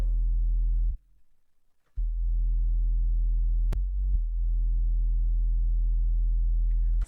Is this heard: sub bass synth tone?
yes